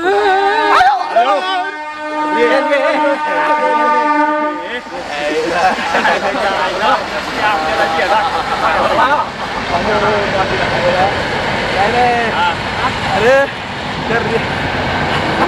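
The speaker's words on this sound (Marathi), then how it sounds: "रेल्वेचा आवाज आहे" A sustained, horn-like tone from a train sounds for several seconds, then gives way to voices talking over a steady rumble of background noise.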